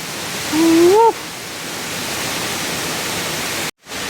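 Steady broadband rush of the Seethampeta Mettuguda waterfall carrying heavy flow, constant and fairly loud, with a brief tonal whistle early on and a short dropout near the end.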